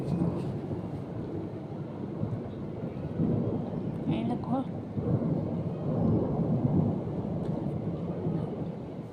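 A heavy thunderstorm with a low, sustained rumble of thunder rolling through steady rain, loud and continuous throughout.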